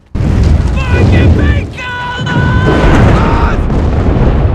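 Heavy explosions from a war TV series, loud deep rumbling booms with a sustained roar, harmonic tones cutting through, and a voice speaking over part of it.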